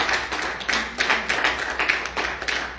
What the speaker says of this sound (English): Just clap our hands for Jesus